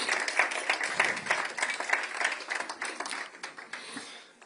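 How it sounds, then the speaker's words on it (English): Audience applause at the opening of the Nova music exhibit in the U.S. Capitol, a dense, sustained burst of many hands clapping that gradually fades out. "please clap for them"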